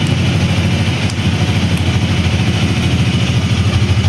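A 2017 Honda Rebel 300 motorcycle idles close up, its engine giving a loud, steady, even low throb with a fast regular pulse and no talking.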